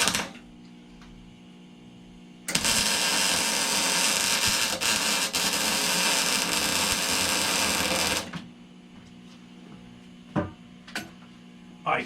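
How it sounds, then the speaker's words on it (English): Welding a nut onto a stud while swapping a lawn mower motor: a steady, loud, crackling buzz of the welder for about six seconds, with quiet workshop sounds before and after. "I'm going to go ahead and try to weld the nut on right now"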